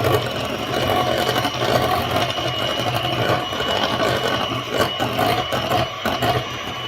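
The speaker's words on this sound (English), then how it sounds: "and then whisk in" An electric mixer whisks egg white while icing sugar is added a tablespoon at a time, giving a steady whirring motor hum with slight rattles, moderately close and uninterrupted throughout.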